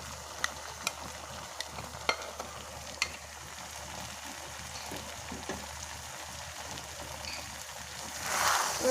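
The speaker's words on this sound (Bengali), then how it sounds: "তেলের সঙ্গে মিশিয়ে নিতে হবে এবং এখন এটাকে আর কিছুক্ষণ পর অনবরত নাড়তে হবে।" Beef brain fries in oil in a pan for a bhuna curry, a faint steady sizzle broken by occasional sharp clicks of a utensil stirring against the pan.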